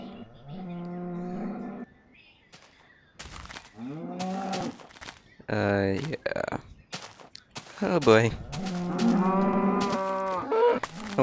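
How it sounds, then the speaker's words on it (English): A Minecraft cow moos several times in a row, loud and close, with someone speaking briefly between the calls. "that was that cow."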